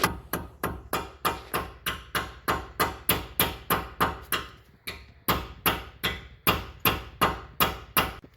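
A hammer taps brake caliper pins out on a 2007 Mercedes-Benz CLK 550 with a long run of sharp, evenly spaced metallic blows, roughly two per second, close and distinct, with one short pause partway through.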